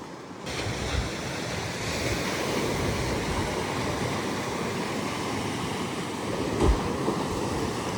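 Sea waves at Pondicherry beach near a sea wall, a loud continuous roar of surf with wind buffeting the microphone and a slight surge near the end.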